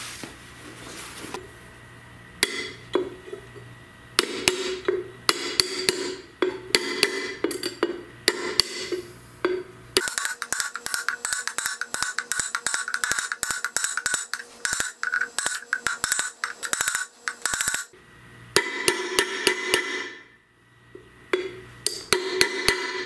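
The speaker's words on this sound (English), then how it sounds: "I could press these in, but they go in pretty easy with a hammer." Sharp metallic hammer blows drive a bearing into a Chrysler/Dodge AAM 9.25 front differential center section, coming in quick bursts of rapid strikes with short pauses between, loud and close.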